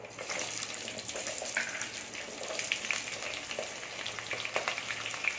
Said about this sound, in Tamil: வெந்தயம் நல்லா பொறிஞ்சிருச்சு